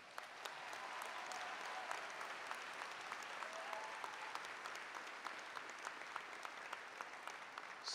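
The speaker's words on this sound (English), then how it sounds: "I think you should give yourselves all a round of applause" A graduation commencement audience applauds steadily for the whole stretch, a dense, even wash of many hands clapping at a moderate distance with no voices rising above it.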